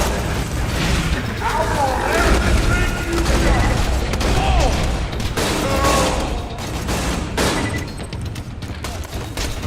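Gunfire and explosions from the video game Borderlands 2, with dense, continuous bursts of shots, booms and mechanical clatter, and a voice talking over the combat.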